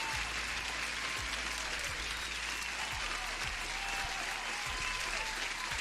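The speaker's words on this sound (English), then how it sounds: "let me give you guys a big applause for everyone who's watching the stream." A crowd applauds steadily at fairly close range, dense clapping holding at an even level from start to finish.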